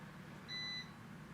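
A Samsung flip phone gives one clean electronic startup beep as it powers on, a steady tone lasting about a third of a second over quiet room noise.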